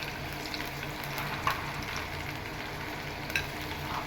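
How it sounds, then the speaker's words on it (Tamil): Spices sizzling in hot coconut oil inside a pressure cooker, a steady loud frying hiss with a couple of sharper pops and scrapes of stirring. "தேங்காய் எண்ணெய் ஆல்ரெடி குக்கர் நல்லா சூடாகிடுச்சு. நம்ம போய் ஸ்பைசஸ் ஆட் பண்ணிடலாம்."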